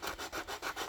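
3M sandpaper, probably 80 grit, rubs back and forth on a resin model part in steady, rhythmic strokes, a close, dry scratching repeated about five times with no talking.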